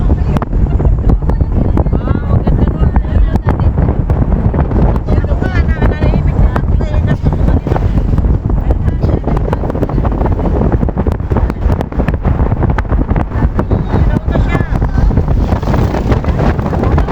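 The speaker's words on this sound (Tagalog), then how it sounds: "Mahangin to." Strong wind on a boat headed for Santa Rosa, Laguna buffets the microphone in loud, continuous gusts, with crackling rumble and a faint voice speaking under the roar.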